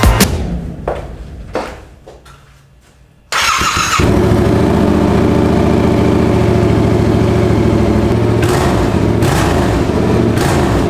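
A new Yamaha R7 motorcycle starts with a quick crank and its engine catches, then idles loudly and steadily through the exhaust, with a couple of brief blips in revs near the end.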